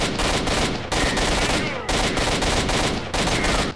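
Rapid automatic gunfire from the S.T.A.L.K.E.R. shooter game comes in loud, sustained bursts, roughly one per second with short breaks, close and dense.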